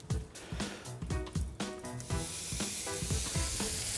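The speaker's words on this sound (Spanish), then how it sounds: "Lo que tenemos que escuchar es ese ruido, esa música que despide la carne con su parrilla cuando toca el fuego." Grass-fed beef sizzles and crackles on a charcoal grill during an Argentine asado, close and fairly quiet, a busy continuous hiss with small pops.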